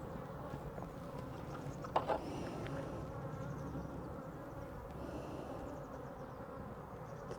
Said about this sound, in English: Let's try not to squash any bees because they're angry already.